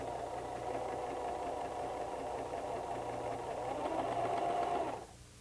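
A White 1735 sewing machine runs a long basting stitch, humming in a steady, moderately loud mechanical whir for about five seconds before stopping abruptly, with no talking.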